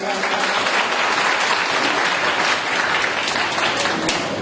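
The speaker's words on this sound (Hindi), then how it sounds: "इन्हां लई एक बारी भरपूर तालियां" Full, steady audience applause at a Punjabi mushaira, a poetry gathering in Qilla Kalarwala, Sialkot, Pakistan, with a continuous wash of clapping from a crowd that stays even for the whole stretch.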